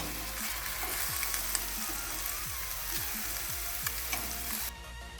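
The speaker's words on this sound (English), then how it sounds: "Then, I poured the mixture in a frying pan." Steady crackling sizzle of an egg and sausage mixture frying in a pan, with repeated scraping strokes of a utensil stirring it at an even rhythm.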